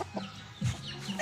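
A backyard rooster clucks in a few short, close bursts spaced across a brief moment, with no talk over them.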